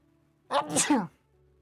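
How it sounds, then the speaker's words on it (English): A single close sneeze, a sharp sudden burst of breath that fades within a second, in an otherwise quiet room. "I'm about to sneeze."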